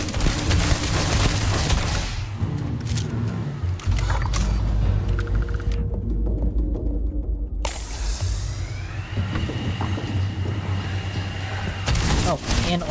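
Turret gunfire in the sci-fi video game Starfield hits the player as rapid bursts of loud shots and heavy booms, cutting out briefly and then resuming, with a player talking over the barrage.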